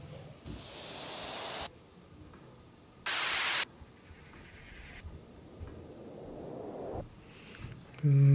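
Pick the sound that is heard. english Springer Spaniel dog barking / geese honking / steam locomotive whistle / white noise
white noise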